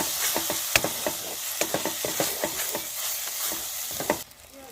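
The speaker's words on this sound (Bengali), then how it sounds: "দিয়ে দেবো হলুদ গুঁড়ো, দিয়ে দেবো লঙ্কার গুঁড়ো, দিয়ে ভালো করে আমি কষিয়ে নেব।" Turmeric and chili powder fry in a pan for a mustard pabda fish curry, a steady sizzle broken by repeated scraping stirs of a spatula, close and rhythmic, with no voices.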